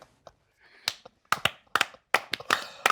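A few people clap scattered, uneven claps in a small room, a handful of sharp hits in quick bursts with quiet gaps, close and moderately loud.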